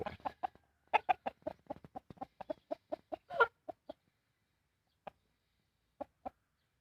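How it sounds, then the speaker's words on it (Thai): A young Thai fighting rooster clucks in a quick run of short, sharp calls, then falls quiet apart from a few isolated clucks, close and fairly soft. "ตอนนี้ยังเป็นไก่หนุ่มอยู่ครับ"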